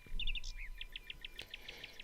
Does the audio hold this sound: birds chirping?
yes